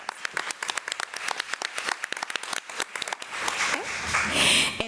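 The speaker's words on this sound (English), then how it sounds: "Let's give Mina another round of applause." Applause at a school board meeting honoring a student, opening with distinct individual claps that build into denser clapping from a modest audience.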